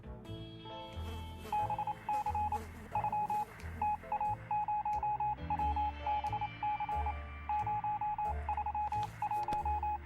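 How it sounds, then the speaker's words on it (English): A public phone booth telephone ringing across the street in the 60 Seconds game, repeated electronic ring bursts in a steady rhythm over a low droning music bed, moderately quiet. "We can clearly hear a phone ringing outside."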